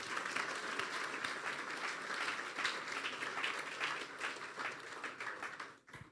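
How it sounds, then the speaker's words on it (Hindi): A church congregation claps loudly and steadily in sustained applause, dense and continuous, fading out near the end. "ज़ोरदार ताली बजा दें अपने लिए।"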